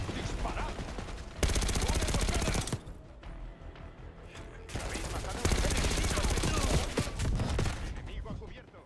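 Sustained machine gun fire in the Call of Duty: Black Ops 6 campaign, loud dense bursts broken by a short lull in the middle before heavy fire resumes, with no talk.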